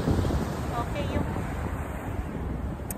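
Wind sweeps across an outdoor seaside spot as a steady broadband rush and buffeting against the microphone, blended with a low roar like surf. It stays fairly constant and faint voices are barely present.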